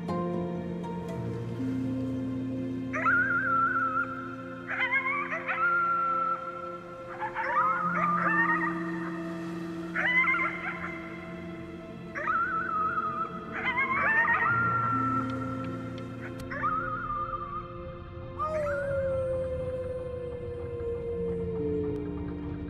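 Wolf-like howling in the video game Before Your Eyes, a series of rising, wavering howls repeated over a sustained tonal musical background, ending with a long descending howl.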